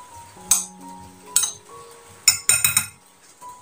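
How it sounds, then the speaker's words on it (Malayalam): Kitchen utensils clink sharply against a bowl or glass in several quick bursts while boiled peanut snack ingredients are mixed with salt, the taps close and distinct over a quiet room. "ഇനി എല്ലാം കൂടിയിട്ട് ഒന്ന് മിക്സ് ചെയ്ത് കൊടുക്കാം"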